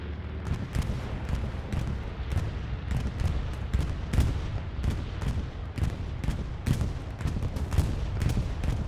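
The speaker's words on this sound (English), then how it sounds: "This is a Allied bombing run, if I understood the map correctly." Allied bombing run in the Hell Let Loose World War II shooter on Omaha Beach: a continuous roar of rapid explosions and gunfire, with dense sharp blasts repeating over a heavy low rumble, loud and sustained throughout.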